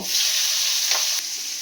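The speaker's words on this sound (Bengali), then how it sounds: "টমেটোটাকে ভেজে নেব।" Tomatoes fry in hot oil with whole cumin, bay leaf and green chilli, producing a loud, continuous close-up sizzle with a brief stirring swish partway through.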